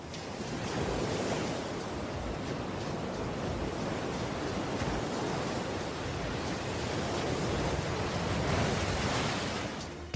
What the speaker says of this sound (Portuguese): As grandes ondas que atingem a costa são obviamente espetaculares e um pouco assustadoras